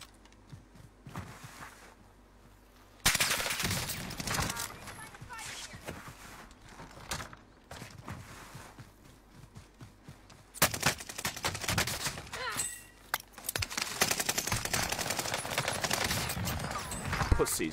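Gunfire in an online shooter video game, with sudden loud bursts of rapid shots and heavy clattering volleys that start and stop repeatedly, mixed with footsteps and other game effects.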